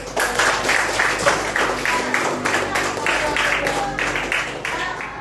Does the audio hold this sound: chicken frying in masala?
no